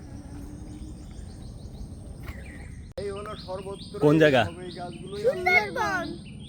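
Birds chirp and call in the Sundarbans mangrove forest amid a steady insect drone, the calls sharpening in the second half, with a brief spoken question heard nearby.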